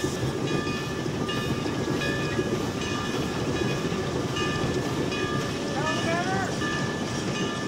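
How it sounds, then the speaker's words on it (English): A Climax steam locomotive working a short line railroad in the Pacific Northwest near Mount Rainier, heard from the cab as a loud, continuous rumble and clatter with metallic squeals and tones throughout. "one of the rarest cab rides ever caught on video, and one you'll never forget in the notoriously cantankerous Climax locomotive"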